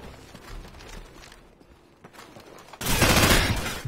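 Gunfire in the online shooter Modern Warfare: quiet game noise and soft footsteps, then a sudden loud burst of rapid shots that fills the final second.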